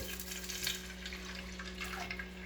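Water is poured steadily from a glass into soaked rice in a pot, 3.5 glasses in all, as part of Rathayatra bhog cooking. It makes a faint, continuous splashing wash over a low background hum.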